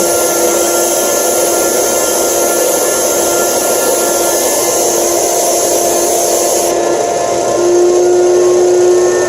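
Vacuum cleaner serving as dust collection for a Harbor Freight belt sander, a loud continuous whine and rush with a steady hum underneath, close and unbroken throughout, its tone shifting slightly near the end.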